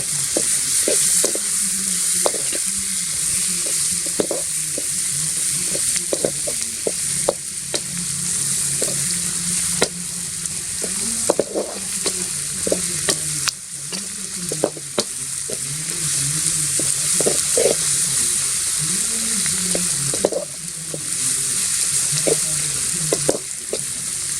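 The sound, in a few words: stirring and frying tomato and chili in a pan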